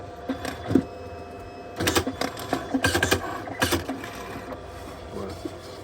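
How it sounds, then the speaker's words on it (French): A printer printing a photo, irregular mechanical clicks, whirs and clattering bursts of feed rollers and gears, loudest in the middle stretch, with no talk. "ça lance une impression, justement, qui va arriver à l'imprimante"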